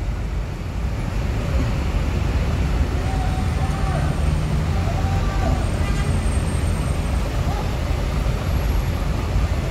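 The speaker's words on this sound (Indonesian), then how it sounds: "Banyak bus malam menuju ke Sumatera." Night buses pass along a busy road on the way to a ferry crossing to Java, a continuous loud roar of engines and traffic that holds steady without pause, with faint horn tones drifting over it.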